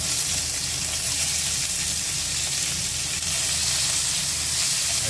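Chopped onion, added to hot oil after garlic, sizzles and fries with a steady, dense hiss that continues without a break throughout.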